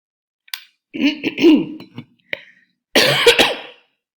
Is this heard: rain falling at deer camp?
no